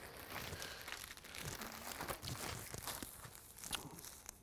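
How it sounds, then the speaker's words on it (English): Plastic bag from a PPE kit being pulled open, a steady stretch of close crinkling and rustling with small tearing crackles throughout, no talk. "What we'll do here is, if I can get the bag open"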